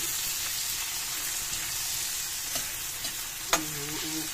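Small tomatoes stir-fried in a pan for adobong kangkong with tofu, a loud continuous sizzle with a few utensil scrapes and a sharper clink near the end.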